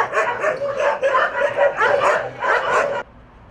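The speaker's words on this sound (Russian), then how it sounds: "Собаки нас встретили громким лаем" Several dogs at an animal shelter bark loudly, with repeated, overlapping barks close by that stop abruptly near the end.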